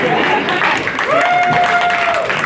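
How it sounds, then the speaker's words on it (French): Applause rises from the audience at a stand-up comedy show, steady clapping across the whole stretch with a voice talking and a sustained tone heard over it. "Tu peux applaudir, je me tais, vas-y."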